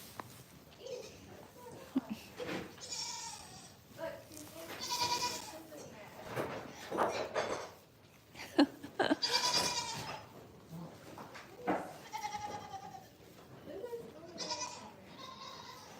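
Goats on a goat farm in January bleat several times at moderate distance, with irregular calls spread through the stretch. A person talks quietly between and over the bleats.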